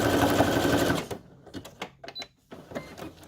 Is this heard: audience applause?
no